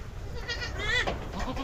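A goat bleats once, a short wavering cry fairly close, over a quiet outdoor background.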